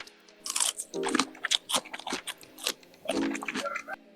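Lightly salted pickled cucumber being bitten and chewed up close, a series of loud, wet crunches in an irregular rhythm with short pauses between bites and no talking.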